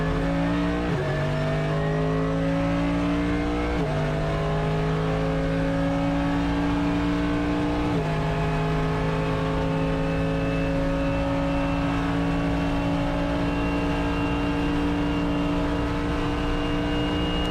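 A race car circuits the track on a practice session, its engine droning loud and close and climbing in pitch through the gears, with sharp drops at each upshift, continuous with no voices.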